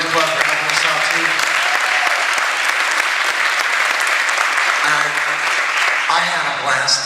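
Sustained audience applause at a jazz camp performance thanking the Rotary Club, a dense steady wash of clapping lasting several seconds, with some voices and cheering mixed in near the end.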